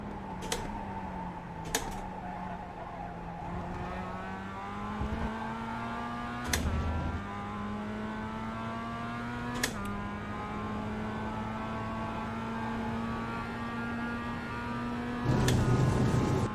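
Mazda MX-5 race car engine at Lime Rock in a racing game, a steady, buzzing engine drone holding near-constant pitch with slow rises, punctuated by several sharp clicks or ticks, alone with no talking.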